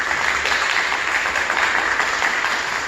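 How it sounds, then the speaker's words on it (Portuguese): A church congregation applauds the word of God during Sunday Mass, a steady, even wash of clapping that fills the space without pause. "Salva de palmas a palavra de Deus."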